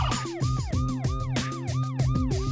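An ambulance siren wails on a country road, a loud repeating sweep cycling steadily about every half second, with a car nearby.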